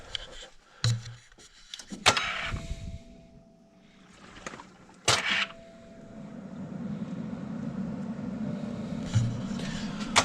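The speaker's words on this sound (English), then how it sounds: "This sounds like a freaking broken starter." Mechanical clicks and clunks come in separate bursts, with a brief whirring hum between them, like a starter clicking without turning the engine over: a broken starter on a BMW 114i F21 converted to M135iX, tried for the first time.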